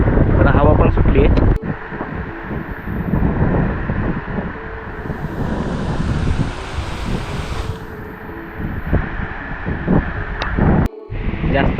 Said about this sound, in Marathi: पावसाला जरा सुरुवात झाली वादळी वाऱ्याचं, जरा हवा पण सुटली.